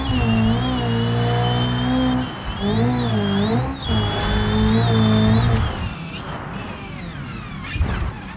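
In the BeamNG driving game, a rally car's engine revs hard from a second-gear start, climbing in pitch through repeated surges and shifts, loud and close, before dropping off to rumbling and a brief knock.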